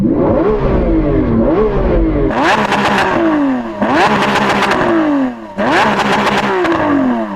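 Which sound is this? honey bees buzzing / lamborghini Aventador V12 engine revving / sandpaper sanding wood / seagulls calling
lamborghini Aventador V12 engine revving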